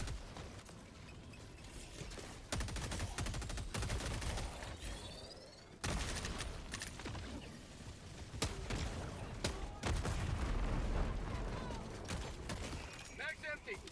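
Full-auto gunfire in Helldivers 2, long sustained bursts of rapid shots broken by brief pauses, loud and close, with a player talking in between.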